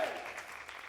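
Applause breaks out for the winning quiz team at a university league quiz show, a short burst of steady clapping from a studio audience.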